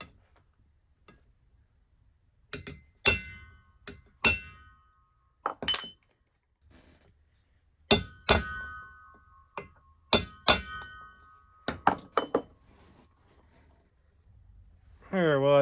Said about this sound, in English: I staked it a bunch of times.